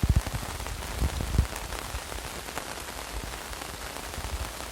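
Rain patters steadily on a surface nearby in Dakkhin Maliar Chhara, Cox's Bazar, during flooding, with scattered heavier drops and a few low thumps early on, no talking.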